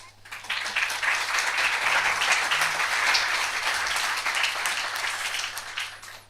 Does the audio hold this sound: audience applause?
yes